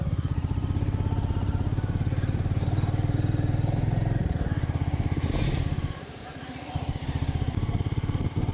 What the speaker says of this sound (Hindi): और आगे बढ़ाएगी बाइक को।